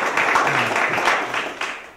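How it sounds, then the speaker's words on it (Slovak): Applause from an audience welcoming guests to a panel discussion on the crisis in Ukraine, a short burst of clapping that swells and then fades over about two seconds. "Myslím, že toto samo o sebe si zaslúži potlesk a mohli by sme ich aj privítať."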